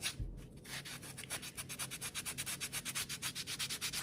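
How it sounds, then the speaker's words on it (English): A homemade fishing lure is sanded with 120 grit sandpaper, giving a rapid, even back-and-forth scratching rhythm close up that grows steadier and quicker toward the end. "We get our 120 and we can sand it a lot easier."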